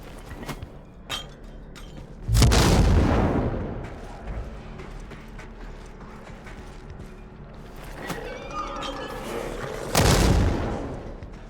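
Two heavy booming blasts from a thrown grenade in the game Dying Light The Beast, the first near the start and a second toward the end, each a broad loud burst with rumbling tail over game ambience and scattered creaks.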